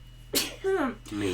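A single sharp sneeze rings out in a classroom, loud and close, followed by a brief spoken word in a quiet room with a low hum.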